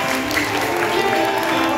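Audience applause at a ceremony for new police chiefs receiving their ranks, a steady wash of clapping that runs unbroken and fairly loud through the whole short stretch, with faint crowd murmur mixed in.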